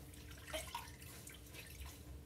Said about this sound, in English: I'm squeezing at the water from them